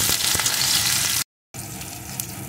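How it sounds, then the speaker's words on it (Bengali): Chopped onion fries for eggplant bharta in a loud, dense, continuous sizzle with faint stirring clicks, cut by a short moment of silence before the frying resumes. "এখন দিয়ে দেবো একটা পেঁয়াজ কুচি। পেঁয়াজ কুচিটা একটু ভেজে দেব।"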